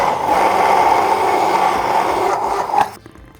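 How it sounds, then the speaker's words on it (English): A blender whirs loudly and steadily as it purees a burger sauce of mayonnaise, ketchup, onion and dill pickles, then winds down and stops near the end. "Now let's blend it up and see if it looks exactly like theirs does."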